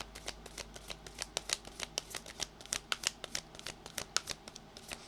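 Oracle cards being shuffled by hand close up, a rapid string of crisp papery riffles and taps repeating steadily, with no talking.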